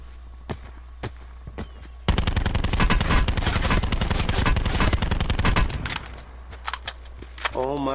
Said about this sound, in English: I got a fucking shotgun.